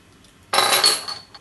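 A metal tablespoon measure clinks against a bowl while tomato puree is added, one sudden bright metallic strike that rings briefly and fades within about a second.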